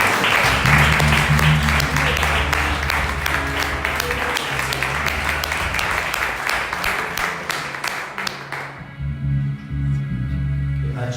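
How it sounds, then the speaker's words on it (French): A church congregation applauds in dense, sustained clapping over a low sustained musical tone, then the clapping cuts off sharply, leaving the tone alone. "Est-ce que tu peux applaudir le Seigneur?"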